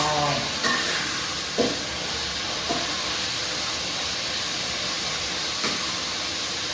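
Hot oil sizzles as sun-dried beef fries in a pan, a steady broad hiss with a few soft pops and crackles scattered through, close and continuous with no talking.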